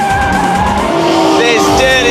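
Cars spin donuts with squealing tires, a loud sustained screech with rising and wavering pitches, backed by engine roar and a voice talking over it.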